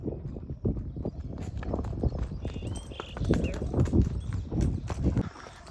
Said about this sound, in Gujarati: તો ફ્રેન્ડ તમે જોઈ રહ્યા છો કોહિનૂરને ઘોડીઓ